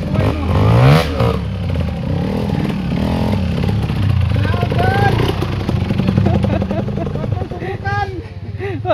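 A motorcycle engine revs up close and loud, with rising and falling pitch sweeps and rattling clatter, while people talk over it.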